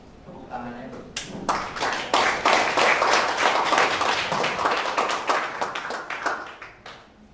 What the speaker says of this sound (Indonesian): Tepuk tangannya bro.